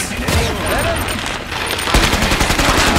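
Rapid, dense automatic gunfire from Killing Floor 2, loud and continuous across the moment with sharp bursts layered over chaotic game effects, a voice faintly mixed underneath.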